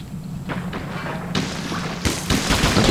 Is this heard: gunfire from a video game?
yes